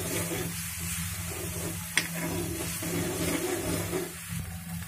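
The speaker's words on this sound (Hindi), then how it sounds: "पेस्ट को बिल्कुल जो है थोड़ा ब्राउन होने तक तेल के अंदर पकाना है" Spice paste for baingan bharta fries in oil in a pan, a steady close sizzle and hiss throughout with occasional soft stirring clicks and no talk.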